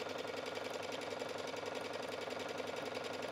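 Sewing machine running steadily as it stitches bias-cut fabric for an A-line skirt with a narrow seam allowance, a continuous, even mechanical whir with no pauses.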